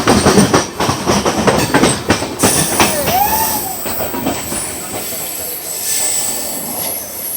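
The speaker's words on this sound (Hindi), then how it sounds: "सेकेंड टाइम ये हमारी क्रॉसिंग हो रही है गोवा एक्सप्रेस के साथ।" An Indian express train, the Goa Express, rolls past the Maharashtra Express at a crossing, with loud rumbling wheels, metallic squeals sweeping up and down, and rail clatter that slowly fades as the cars go by.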